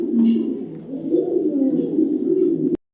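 A male checker racing pigeon coos in a steady, warbling, throaty stream, close and clear, for nearly three seconds before cutting off abruptly.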